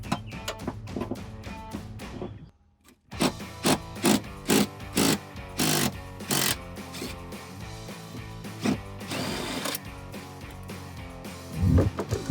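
Ratchet with a 9-inch extension loosening front seat mounting bolts on a Jeep Wrangler JL, a busy run of mechanical clicking and rattling bursts with a brief pause near the start, close and fairly loud.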